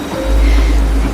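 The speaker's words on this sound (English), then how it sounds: "Listen to the water." A brief, loud roar of rushing flood water with a heavy low rumble, surging and steady.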